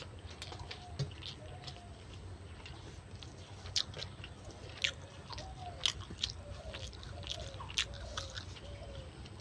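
Someone eating a late meal, with faint repeated biting and chewing clicks spread through the clip over a steady low background hum; nobody talks.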